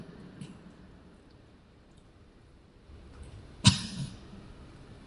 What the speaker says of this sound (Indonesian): kebanyakan ngomong begini nih, jadi batuk.